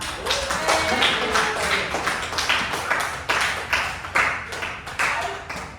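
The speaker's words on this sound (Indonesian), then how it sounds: "tepuk tangan untuk kita semua" Students clapping in a classroom, with rhythmic bursts of handclaps arriving in uneven groups, fairly close and moderately loud, and no talking over them.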